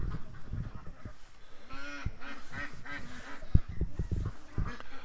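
A small domesticated mallard calls outdoors in a series of nasal quacks and honks at moderate distance, heard over a rough, noisy background.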